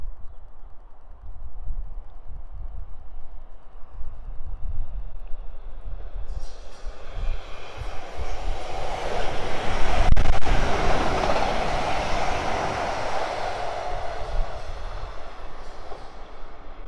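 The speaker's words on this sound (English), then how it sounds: "here comes the first train of the day" A train passes beneath the Winchfield bridge on the South Western Main Line, swelling from a distant rumble into a loud, close roar of wheels and rushing air, then holding steady as the carriages run by, with no talking.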